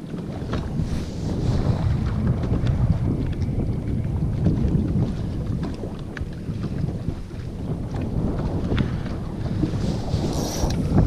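Fishing boat motor running steadily on a lake during a pike and crappie outing, a continuous loud droning rumble mixed with wind buffeting the microphone, with no talking.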